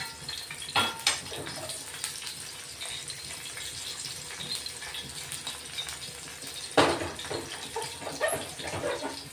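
Bombay duck fish fry in oil on a round tawa, giving a steady close sizzle with a couple of sharper clattering bursts from the pan.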